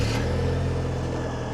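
A 2026 Chevrolet Colorado ZR2 pickup fires up by remote start, its engine settling into a steady, close idle rumble through a single-exit exhaust after a brief initial surge.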